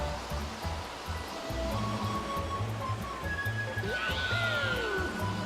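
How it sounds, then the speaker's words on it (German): Water splashes and rushes continuously in Super Mario Galaxy 2, a steady surf-like wash mixed with game sound effects and a light melody, with no voices over it. "Und genießen wir das Plätschern des Wassers, die hübsche Melodie."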